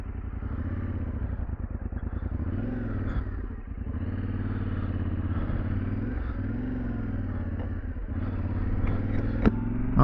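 A 2025 Yamaha Tenere 700 adventure motorcycle with a quickshifter hums steadily under way, its engine note rising and dipping through quick gear changes, heard from the rider's position with wind rush and an occasional light clack.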